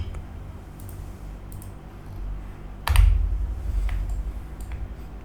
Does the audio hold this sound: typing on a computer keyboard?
yes